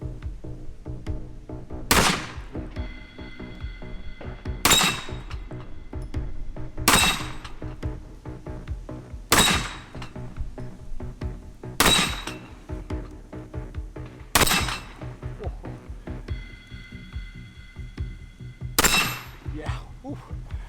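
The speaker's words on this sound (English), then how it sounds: "shooting them here at the gongs is a real treat" Heavy LAR Grizzly pistol shots in .45 Win Mag boom out at steady intervals on an outdoor range, each blast followed by a ringing metallic clang from struck steel gongs, about eight shots in all.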